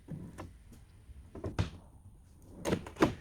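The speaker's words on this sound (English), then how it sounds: "Then I push the drawer in gently until the soft closing mechanism engages." A Grass Dynapro soft-closing drawer pushed shut, giving a few soft sliding rumbles and quiet knocks, then a pair of firmer thunks near the end as the mechanism engages, close and fairly faint.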